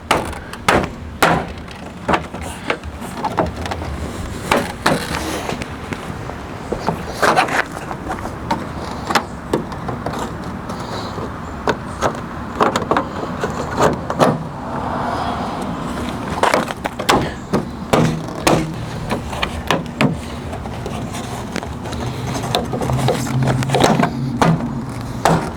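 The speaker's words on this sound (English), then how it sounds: "once we have it lined up, we just give it some taps" Trim on a 2014–2019 GMC Sierra 1500 pickup is tapped into place to seat the grille, giving repeated sharp knocks in irregular bursts throughout, fairly close and loud.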